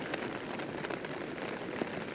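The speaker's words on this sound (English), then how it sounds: "it's difficult to know now what the rain is doing, because it's raining" Steady rain patters on a tarp shelter pitched for wild camping in the Lake District, a dense, even hiss of drops with a few louder individual taps, close and continuous with no talking.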